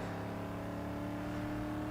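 Car engine in a racing video game holding a steady, droning rev after a launch, a dense continuous hum at moderate level with no talking.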